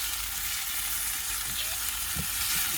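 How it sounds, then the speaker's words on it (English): Chicken stir fry with noodles sizzling steadily in a hot pan while being stirred, with a bright continuous frying hiss and a couple of soft scraping knocks, close and without talk. "Just stir the stir fry."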